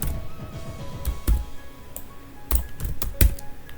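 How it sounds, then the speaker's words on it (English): Commands being typed on a computer keyboard into a command prompt: irregular, crisp key clicks at moderate loudness, with a few louder keystrokes standing out and no one speaking. "In this command prompt, you have to type this code one by one and hit enter."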